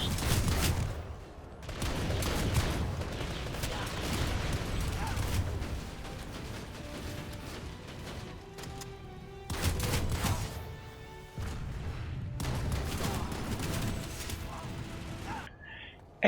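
A TS4 Haymaker shotgun loaded with slug ammo fires in Planetside 2 combat as several heavy blasts in separate clusters, with other battle noise between them.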